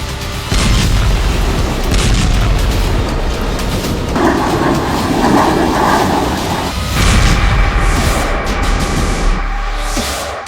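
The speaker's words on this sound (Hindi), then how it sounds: "ये वीडियो है एक ऐसी बमबारी का जो एर्दोआन के लड़ाकों को ताकत देगी।" Aerial bombing in the Syrian war sounds as a series of heavy booms and rumbling blasts, loud and dense with a sustained roar and shifting texture, with no talk over it.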